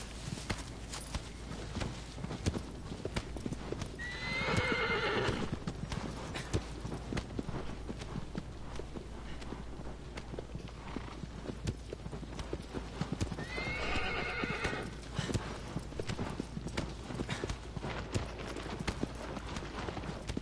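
Agro, the horse in the PS4 remake of Shadow of the Colossus, clip-clops along steadily in a galloping rhythm throughout, with two loud, drawn-out neighs rising above the hoofbeats partway through.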